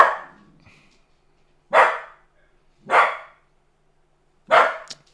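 A dog gives three loud, separate barks spaced about a second apart, close by, with a faint low murmur at the start and no talking over the barks.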